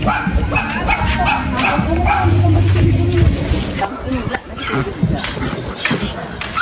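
A dog barks and yips close by, with whimpering bursts among the barks, while people talk over it.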